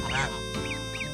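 Geese call in short, honking bursts, three nasal calls spaced across about a second, fairly close, with a steady low background hum beneath.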